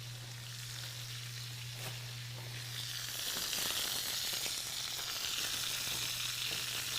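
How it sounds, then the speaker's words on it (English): Meat sears in a hot frying pan with a steady, close sizzle and crackle that holds throughout, with no talking, before the pan goes into the oven. "So we gotta still sear the bottom of it"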